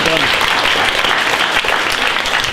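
Loud, dense applause from an audience at a youth hackathon show-and-tell event, steady clapping throughout with no pauses.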